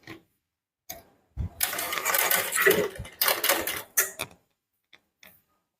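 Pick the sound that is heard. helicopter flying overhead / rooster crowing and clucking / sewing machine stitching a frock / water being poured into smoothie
sewing machine stitching a frock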